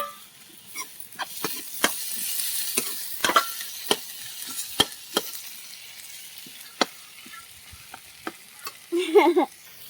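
Chopped tomatoes fry in a pan with potatoes, sizzling steadily up close while a spoon scrapes and knocks against the pan at irregular moments, with a louder burst of stirring near the end.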